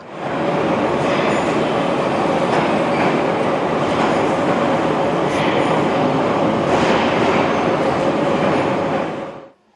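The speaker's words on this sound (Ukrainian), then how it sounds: "Замість звичного шкільного дзвінка гуркіт поїзда метро." A Kharkiv metro train rumbles steadily and loudly for nearly ten seconds, with a continuous dense roar and faint clickety-clack of wheels, fading out at the very end.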